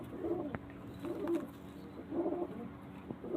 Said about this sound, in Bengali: এটা মাদা পায়রা আর এরই নর পায়রা হচ্ছে